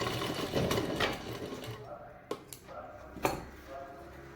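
Sewing machine stitching a double zip purse, a fast rattling run of needle strokes up close, then stopping and giving way to a few sharp clicks and taps as someone speaks.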